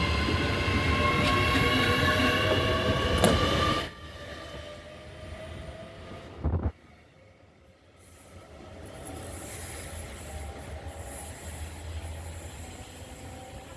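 A new Class 810 IET train running, a loud rolling rumble with a whining wheel squeal that abruptly drops away mid-clip, a brief sharp clunk, then a quieter steady hum building again.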